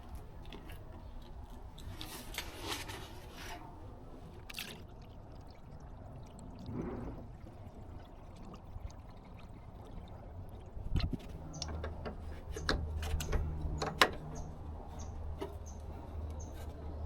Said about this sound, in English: And time to start putting the new antifreeze on.